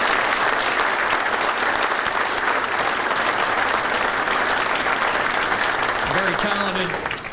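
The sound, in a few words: applause for the Baden High School chorus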